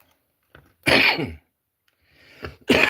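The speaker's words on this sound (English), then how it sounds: "little bit of coughing for you." Two or three harsh, close coughs break out of near silence, with short pauses between them.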